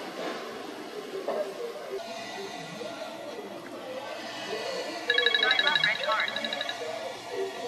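An electronic telephone ringtone trills in a steady, bright repeating pattern for a couple of seconds amid background chatter and people talking nearby.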